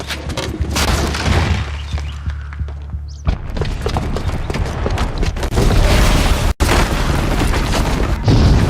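A booby-trapped bomb detonates in Horizon Zero Dawn, a loud booming blast with rumbling low end and scattered bursts of debris and impacts that continue for several seconds before one sharp cut and a renewed roar.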